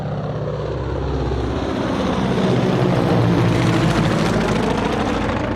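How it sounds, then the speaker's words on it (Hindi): Army tanks and helicopters arriving, as a cartoon sound effect in a Spider-Man robot story: a loud, steady rotor-and-engine drone that swells slightly, with no voices. "तब आर्मी अपने टैंक और हेलीकॉप्टर लेकर वहां पर आती है।"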